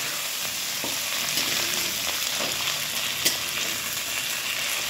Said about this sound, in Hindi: अब इसमें हम टमाटर डालेंगे और इसको इसके साथ मिला देंगे।